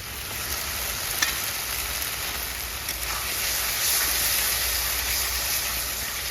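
Chicken gravy with sour yogurt sizzling in a pan, a steady broadband hiss of frying that swells slightly toward the end, with a faint clink of utensils early on.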